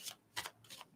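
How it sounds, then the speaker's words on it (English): Playing cards shuffled by hand, a few quick riffling bursts with short gaps between them, close and fairly quiet, with no talking. "I'm just going to shuffle the cards over here"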